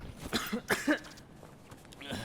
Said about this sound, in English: Why are we coughing?